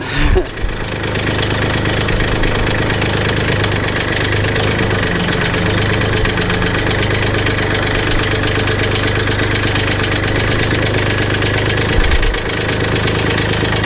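A tractor engine idles steadily while warming up before rolling a field with an Agri Fab 48 x 24 inch steel roller, a loud continuous rumble with a knocking pulse after a short startup clatter, briefly disturbed near the end.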